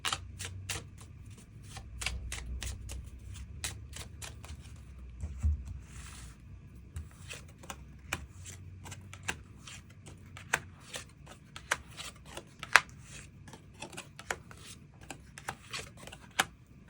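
Tarot cards being shuffled and drawn close up, with a long run of crisp riffling clicks and soft slaps, steady at first and then more scattered, with no voice.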